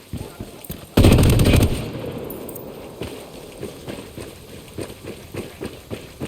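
Gunfire in the tactical shooter Ghost Recon Wildlands: a loud burst of close shots, then rapid rhythmic cracks and footstep-like thumps continuing at a lower level, with some talk.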